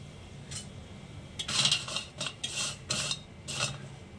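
Air-fried french fries tossed with salt and peri peri spice, a series of short dry rustling and scraping strokes in an uneven rhythm, close and fairly quiet.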